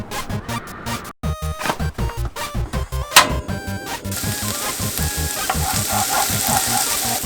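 Garlic frying in a pan, with rhythmic clanks of stirring in the first few seconds that give way to a loud, continuous sizzle.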